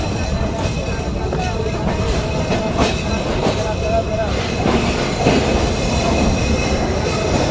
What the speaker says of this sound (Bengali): ফুলবাড়ি রেলওয়ে স্টেশনে আমাদের ট্রেন গুনে 5 মিনিট হল্ট করে আবারও চলতে শুরু করলো।